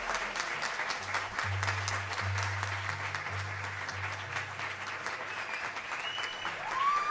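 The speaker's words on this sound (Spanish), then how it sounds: "Aplausos" A live concert audience at Sala Master applauds with steady, dense clapping and crowd noise, while low sustained tones from the stage hum underneath and a faint whistle cuts in near the end.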